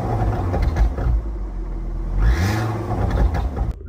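Ford Focus ST mk2 engine cranking and catching, a close mechanical whir and churn that rises into a rough running note, with a shrill rising whine mid-start before the sound cuts off abruptly.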